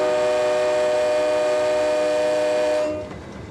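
A freight train at a rail crossing sounds a loud, sustained multi-tone horn for about three seconds, then the blast cuts off and leaves a lower rolling rumble.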